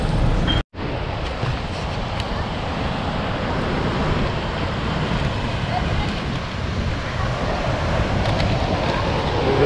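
Ocean waves at a beach in Goa, a steady, loud wash of surf and wind noise filling the whole stretch after a brief cut near the start.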